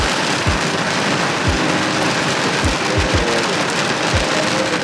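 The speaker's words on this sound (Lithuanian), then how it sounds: "Visą naktį lijo ir dabar vėl pradėjo lyti." Steady rain falls outside after a night of downpour, a dense close hiss of drops with scattered heavier low thumps, no talking.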